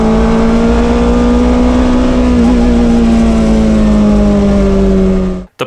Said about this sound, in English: It just made it a much cleaner sounding revving engine